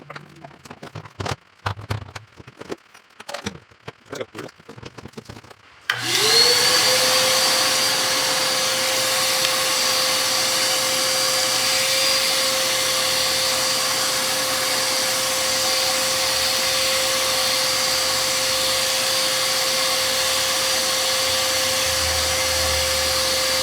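A shop vacuum fitted with a Dustopper Pro dust separator switches on after a few seconds of scattered knocks and clatter, then runs with a loud, steady whine and roar that holds unchanged to the end.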